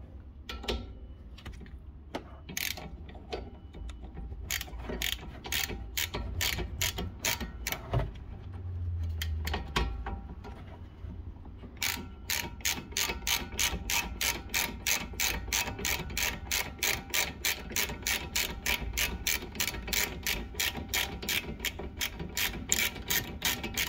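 Ratchet wrench turning a 13 mm socket on a rear brake caliper, its pawl clicking in bursts at first, then in a long, steady, rapid run of close, crisp clicks.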